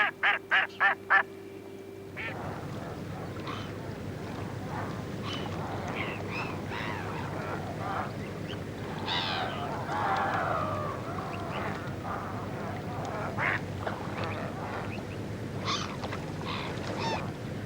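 A short burst of several rapid duck quacks at the start, followed by a steady murmur of water and outdoor ambience with scattered bird calls, in the Tagus Estuary Nature Reserve, Portugal.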